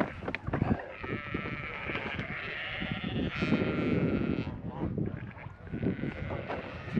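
Sheep bleat repeatedly on a farm, with wavering, overlapping calls from several animals close by. A person talks at times over them.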